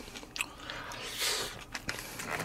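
Someone eating a GS25 convenience store beef brisket lunchbox, close bites and soft moist chewing with a few crunchy, squishy mouth sounds over a couple of seconds, no talking.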